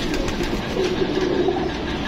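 Golden pigeons in a bird shop, their soft cooing carried under a steady, dense background hum that runs throughout.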